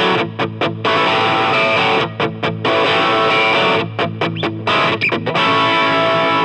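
Heavily distorted electric guitar through a distortion pedal playing chords with short rhythmic stops, loud and close, with no voices.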